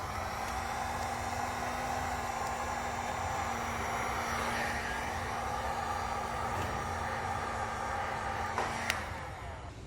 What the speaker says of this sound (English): I will come back in with a heat gun to seal up that heat shrink